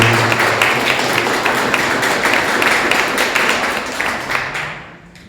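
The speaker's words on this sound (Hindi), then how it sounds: "आइए सब के लिए एक बार ताली बजाकर धन्यवाद" Church congregation applauding in thanks at a Sunday service before Christmas, a dense, steady burst of many hands clapping together that fades out near the end.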